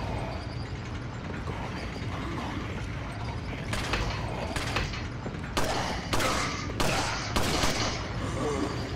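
Gunfire in the video game Resident Evil 4: several sharp shots ring out over the second half, spaced irregularly above a steady dense background of game ambience.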